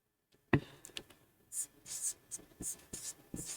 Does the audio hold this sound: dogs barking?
no